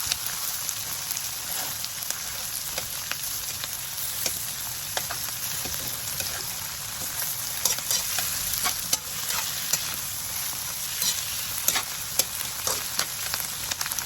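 Onions and tomatoes sauté in a hot pan, giving a steady, loud sizzle with frequent scraping stirs for a Filipino eggplant adobo, with no voices.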